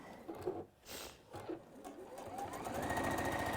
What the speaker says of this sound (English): The beauty of the Jukies is that they sew straight.